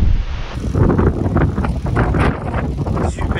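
Strong wind at the summit of the Col de l'Espigoulier mountain pass above Marseille buffets the microphone in loud, roaring gusts that rise and fall without pause.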